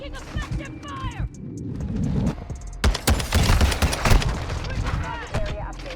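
Rifle fire from a Taq M in a Modern Warfare 2 hardpoint match, with sharp shots and clustered bursts mixed with other game noise and radio-style voice lines, growing louder and denser in the second half.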